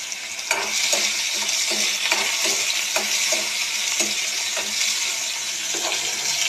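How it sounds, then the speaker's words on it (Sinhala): Dried fish pieces and crushed garlic fry in a hot pan, giving a steady close sizzle with regular scraping stir strokes cutting through. "දැන් මේක ටිකක් බැදෙන්න අරින්න ඕන"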